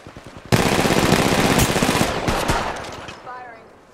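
Rapid automatic gunfire in the mobile shooter Apex Legends Mobile, a loud close burst of evenly spaced shots lasting about two seconds, then a few single shots trailing off with faint clicks.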